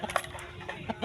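A rooster, the flock's father bird, gives a few quick soft clucks close by, short bursts one after another with no voices.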